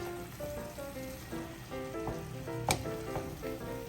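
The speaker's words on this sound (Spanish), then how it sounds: "Vamos a revolver un poco." Pasta being stirred into tomato sauce in a hot pan, with a steady sizzle and soft scraping and clinking of the utensil throughout, plus one sharper clank near the end; faint background music plays under it.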